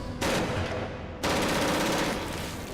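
A slug gun fires in the sci-fi horror game Stasis: two loud, close, roaring blasts, each a sustained burst of noise, the second starting about a second after the first and ringing on to the end.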